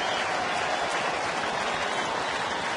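A ballpark crowd at a Phillies–Reds game in Cincinnati applauds and cheers in a steady, dense roar with two outs in the top of the ninth inning, broad and sustained with no clear gaps.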